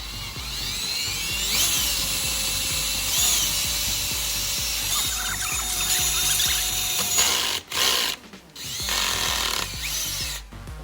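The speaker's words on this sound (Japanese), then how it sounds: "父の日に新しいドリルビットを買ってもらって嬉しいね" A DeWalt power drill with a new bit bores steadily and loudly up close, a continuous whine with shifting pitch as it works, briefly stopping and restarting near the end.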